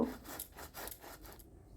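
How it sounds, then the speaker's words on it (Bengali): White and black mustard seeds, poppy seeds and green chilli are ground into a fine paste with steady back-and-forth rubbing strokes, soft and close, about six strokes in quick rhythm before stopping. "সাদা কালো সর্ষে, পোস্ত আর কাঁচা লঙ্কা বেটে নেব।"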